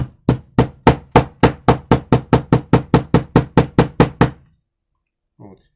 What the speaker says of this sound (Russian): маленьким молоточком я это все делаю